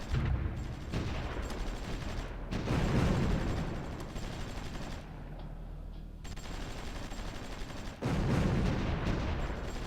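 Anti-air guns fire in the strategy game Supreme Ruler Ultimate, a dense rumbling barrage of overlapping gunfire in loud bursts, easing briefly in the middle before surging again.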